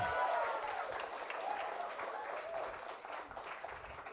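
Applause from an audience at a public candidate hearing for a youth organisation leadership post in Makassar, a crowd clapping steadily and fairly softly for a few seconds, with voices mixed in.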